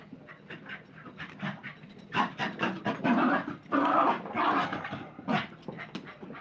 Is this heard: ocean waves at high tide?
no